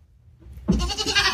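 A pregnant goat on a farm lets out a single loud, close bleat that starts abruptly after a quiet moment and carries to the end.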